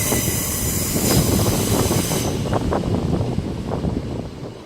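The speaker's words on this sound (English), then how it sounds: "now passing through is the 10:35 Southern service to Brighton" A Southern passenger train to Brighton passes through St Denys station, a loud close roar of wheels and rattling carriages with a hissing high end that cuts off partway, no voices heard.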